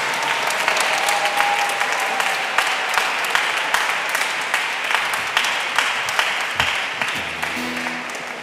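A congregation applauds steadily during a Sunday Mass in a convent church, dense clapping filling the room at a strong level, continuing without pause and easing slightly toward the end.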